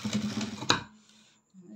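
A sewing machine stitching a blouse runs in a short, steady burst that stops abruptly, followed by a faint low hum and near silence.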